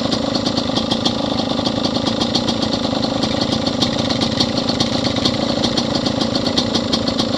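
A four-wheeler ATV engine runs continuously at a steady, rough mid-pitched idle with a constant throbbing pulse, close and fairly loud throughout with no talk.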